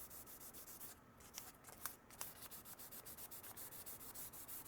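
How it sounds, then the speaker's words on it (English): Close, gentle scratching of fine 1200 grit sandpaper on an old survival knife blade in rapid, even strokes, pausing briefly before resuming its steady rhythm. "I'm just going to give it a light sanding."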